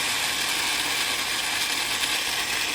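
Kitchen grinder machine grinding roasted chickpeas, a steady continuous whirring and rattling drone that holds evenly throughout, fairly quiet with no talk.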